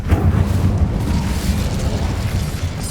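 Incendio fire spell cast in Hogwarts Legacy, a loud, deep rumbling burst of flame that roars continuously for a few seconds.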